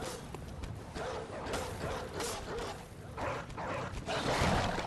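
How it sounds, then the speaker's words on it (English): Dogs in the video game Bloodborne bark and yip in repeated harsh bursts over a rough, busy game soundscape, moderately loud and fairly close. "There's some dogs."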